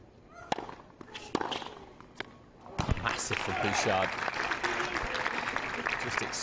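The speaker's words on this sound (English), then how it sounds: "Just extracts a ripple of applause from courtside." Isolated thuds and ball bounces at a women's tennis match give way to a ripple of courtside applause from the crowd, rising after a few seconds and holding steady under a commentator's voice.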